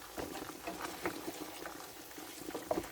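Chopped baby spinach being stirred into hot butter beans in a pan: soft, close bubbling and wet simmering crackle with light irregular pops, steady and fairly quiet, with no talk.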